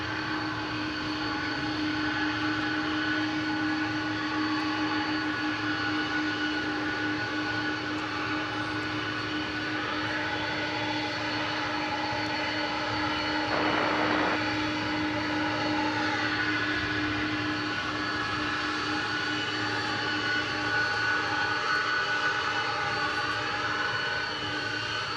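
A jet airliner departing from the west side of DFW Airport at night, a steady distant engine roar holding level throughout with a faint whine, no talking.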